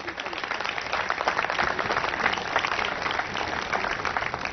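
Audience applause at a presentation and training event in Karachi, a dense, steady wash of many hands clapping together for several seconds, fairly loud and continuous with no clear gaps.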